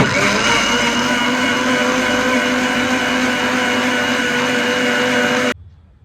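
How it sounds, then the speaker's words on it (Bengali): An electric mixer grinder blends lassi, a loud steady whirring motor drone running continuously up close before cutting off abruptly near the end. "মিক্সিটা চালু করে দিচ্ছি"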